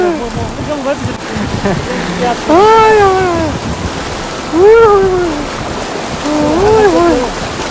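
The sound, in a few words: river water rushing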